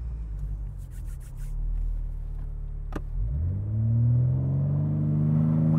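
A 2025 BMW M4 Competition launches from standstill, its engine idling then surging into a loud, rising roar with a sharp click midway, building steadily as the car accelerates hard.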